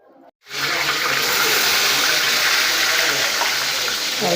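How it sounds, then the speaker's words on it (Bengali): Spice-coated rupchanda pomfret dropped into hot oil, a sudden loud frying hiss that starts after a brief silence and holds steady and close throughout. "দেখেন ফ্রাই হইতেছে রূপচাঁদা মাছ"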